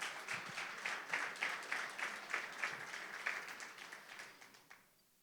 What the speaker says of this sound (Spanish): desen un aplauso a ustedes mismos